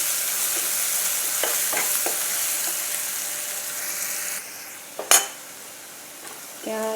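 Ginger garlic paste fries in a pan with a steady, soft sizzle, broken by a few light stirring scrapes and a sharp clink of the utensil near the end.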